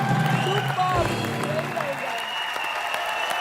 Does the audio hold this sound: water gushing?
no